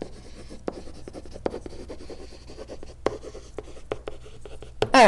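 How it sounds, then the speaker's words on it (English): Pen or marker writing math by hand for a derivative lesson, close and clear, in continuous rubbing strokes with short taps and pauses between marks. "I'll write and then I'll talk"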